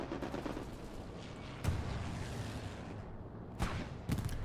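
Distant bombing run in the video game Hell Let Loose during a competitive 36 vs 36 match, a constant rumbling roar of gunfire and battle noise punctuated by three sharp, louder blasts, with no talk.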